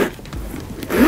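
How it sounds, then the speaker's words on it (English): A zipper on a Michael Kors Nouveau Hamilton large logo leather satchel is pulled along in one continuous close, loud rasping stroke, brightening toward the end. "As far as this zipper,"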